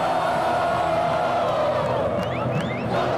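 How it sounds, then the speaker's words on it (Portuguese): Corinthians football fans chant and sing in support as a large crowd, a loud sustained roar of voices with whoops and whistles rising near the end. "Na volta para casa, os gritos de cobrança deram lugar aos cantos de apoio."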